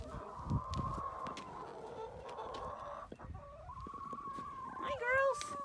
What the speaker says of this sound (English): So I'll go let the other chickens out of the coop now.